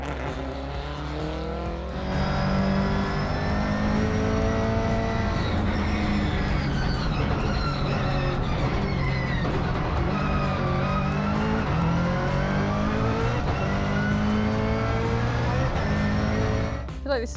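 A 700-horsepower Subaru WRX rally car accelerates hard on a track, its engine roaring loud and steady from close inside the car, with pitch climbing and dropping through gear changes.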